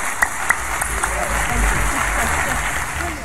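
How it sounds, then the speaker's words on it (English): An audience gives a speaker a warm round of applause, a dense steady clapping that fills the whole stretch at close range. "Please, a warm round of applause for Mr."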